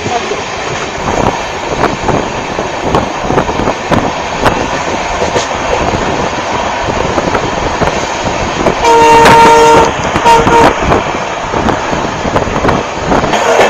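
A train runs at about 80 km/h, making a loud, continuous rumble and rattle with regular clacks, and a short two-tone horn sounds near the end.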